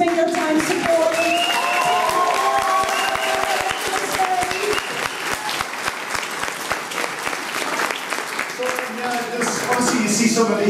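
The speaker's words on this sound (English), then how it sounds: "can you please give a huge round of applause" An audience at John Archer Hall in Liverpool applauds the Katumba drum group, steady dense clapping for about ten seconds with some crowd noise mixed in.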